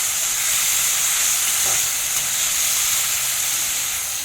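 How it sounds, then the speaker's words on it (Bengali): Steady loud hiss and sizzle of prawns frying in hot oil, an even, continuous crackle with no pauses and no voices over it. "চিংড়ি মাছটা ভেজে নেবো, ঢেঁড়স চিংড়ি করবো।"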